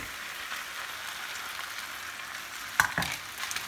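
Cooked fettuccine is tipped into a large pan of salmon, cream and garlic sauce, giving a steady close sizzle, then a few sharp clattering knocks and stirring scrapes near the end.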